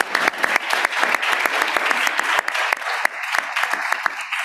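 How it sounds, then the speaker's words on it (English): An audience at a law symposium on constitutionalism gives a round of applause, a burst of dense, close hand claps that continues without letup. "So we'll give another round of applause for Mr."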